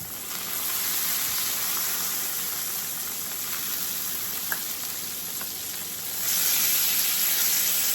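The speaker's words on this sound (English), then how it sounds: "when we grill it, it comes out so crispy" A breakfast sandwich grilling in butter sizzles steadily and close by, a constant bright hiss that swells louder near the end, with no talking.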